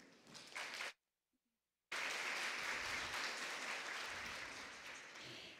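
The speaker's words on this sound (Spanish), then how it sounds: "Fuerte el aplauso" Loud audience applause filling an auditorium at a regional oratory competition in the Ngäbe-Buglé region, with a sharp break of near silence before the clapping resumes and carries on steadily.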